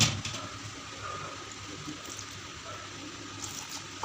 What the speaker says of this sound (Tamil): இது நல்லா தண்ணி ஊற்றி கரைச்சி எடுத்து விடலாம்.